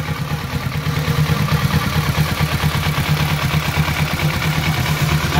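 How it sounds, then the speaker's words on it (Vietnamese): A motorcycle's engine idles close by with a steady, even mechanical putter and light clatter, running alone without talk. "Đây, quay tiếng máy luôn cho các bạn coi nè."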